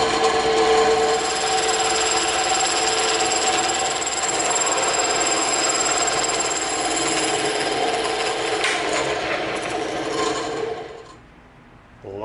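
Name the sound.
bandsaw cutting bevel in EVA foam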